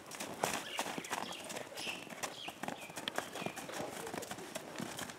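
A racing horse galloping, its hooves clip-clopping in a quick, uneven rhythm at moderate distance, with faint background noise and the odd bird call.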